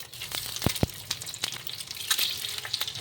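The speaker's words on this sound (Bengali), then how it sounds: "ডিমগুলো যখন তেলে দেবেন তখন এই ডিমের কুসুমের দিকটা তেলের মাঝে দিয়ে দেবেন" Halved boiled eggs fry in hot oil on a tawa, giving a steady close sizzle broken by a few sharp pops and spatters, with no voices.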